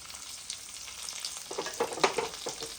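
Dried red chillies and garlic hit hot oil for gongura chutney, producing a close, crackling sizzle that grows busier and sharper over its few seconds, with scattered pops and no talk.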